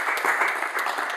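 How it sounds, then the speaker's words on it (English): A school audience claps in a short burst of dense, even applause, fairly loud and steady with no voices on top. "So give yourselves a round of applause for that."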